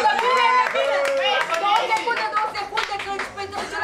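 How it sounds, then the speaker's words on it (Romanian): Partygoers clap their hands at a birthday celebration. Sharp, uneven claps mix with loud overlapping voices, and the talk and chatter partly cover the clapping. "Aplauze!"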